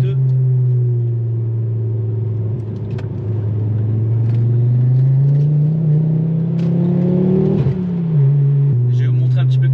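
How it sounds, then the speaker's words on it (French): A car fitted with semi-slick Cup 2 tyres accelerates, its engine note a loud, close, steady drone that rises gradually in pitch before a brief drop as the gear changes, with the engine pulling on afterward. "vous faire partager une petite accélération, avec notamment le grip des Pickup 2"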